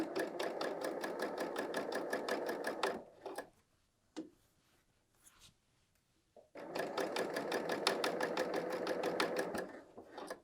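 A BERNINA L 890 sewing machine stitches a woven top in two steady, fast-running bursts with rapid rhythmic ticking, separated by a pause filled with faint handling clicks.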